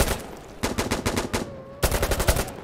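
Rapid automatic rifle fire in the tactical shooter Insurgency Sandstorm, loud close bursts of rhythmic shots separated by a brief pause, then another sustained burst.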